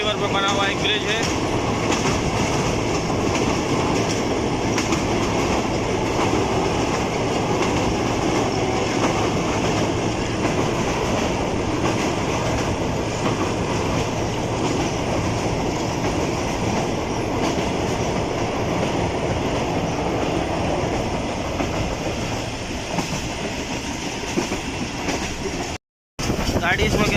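Awam Express passenger train running on the tracks near Karachi in extreme heat, a steady loud rumble of wheels and rail clatter throughout, with a voice talking over it.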